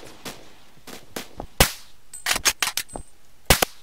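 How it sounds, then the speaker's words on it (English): Gunfire in the online shooter Phantom Forces: sharp, close single shots and quick bursts with short gaps between them, loud and punchy, with no talking over them. "I shot you like a million times"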